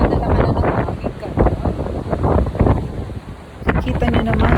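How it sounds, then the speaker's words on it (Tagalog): Strong gusty wind buffets the microphone at a beach during light rain, roaring loudly and unevenly in surges, with a voice talking intermittently underneath. "Kita nyo naman, sobrang lakas ng hangin at may konti pa siyang pag-ulan"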